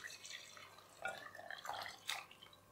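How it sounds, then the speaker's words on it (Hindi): Chicken yakhni stock strained through a sieve in a kitchen, the liquid dripping and trickling in soft, uneven patters with a few brighter splashes, close and fairly quiet. "यखनी को हम छान लेंगे।"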